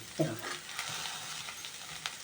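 Spring onion greens and brinjal are stirred in a frying pan for a traditional Maharashtrian bhogi vegetable dish, a steady soft sizzle with a spoon clink at the start and light scraping strokes throughout.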